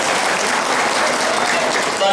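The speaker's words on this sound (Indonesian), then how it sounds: "Tepuk tangan untuk Bapak Ibu semuanya" An audience at an education seminar claps in a loud, dense, steady burst, with voices mixed in under the applause.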